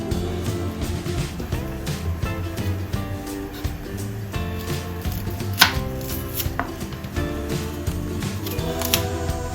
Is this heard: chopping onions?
yes